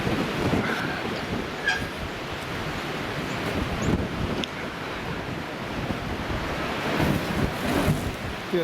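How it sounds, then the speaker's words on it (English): Waves surging against the sea wall at high tide in Watchet, a steady rough wash of surf with stronger splashes near the start and again toward the end, buffeted by wind noise on the microphone. "There's a little splash."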